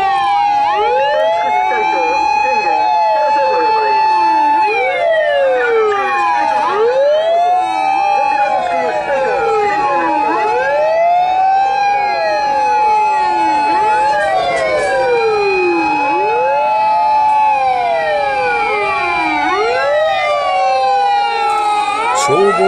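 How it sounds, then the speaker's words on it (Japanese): Fire engine sirens wail loud and continuous during a fire station drill as the trucks are dispatched, several overlapping sweeping tones with a steady high hi-lo pitch running throughout. "消防自動車は出動です。"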